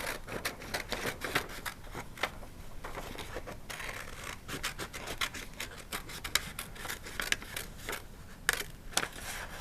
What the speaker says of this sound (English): carefully move those scissors around so that you can get around this last bump